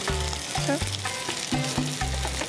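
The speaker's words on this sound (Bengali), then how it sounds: "পেঁয়াজটা ভাজা ভাজা হতে হতে" Chopped onion and pieces of cut fat fry in hot oil with a continuous soft sizzle and crackle, heard alongside sustained tonal hums that rise and fall in steps.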